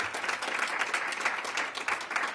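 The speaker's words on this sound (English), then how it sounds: "Give her a big round of applause." A crowd applauds a council member at a mayoral summer youth employment program kickoff, giving a steady, even round of clapping that stays moderately loud from start to finish with no talk over it.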